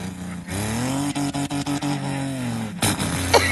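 A voice imitates a Toyota Land Cruiser pickup engine, humming a steady, buzzy idle with rapid rhythmic stutters, then a sharper rising rev at the end, close and loud.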